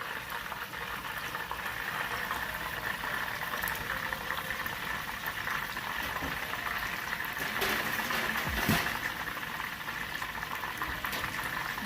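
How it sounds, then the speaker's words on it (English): A batch of chicken wings deep frying in hot oil for hot wings, giving a steady, close bubbling sizzle that holds without a break. "Meantime, we got another batch kind of frying,"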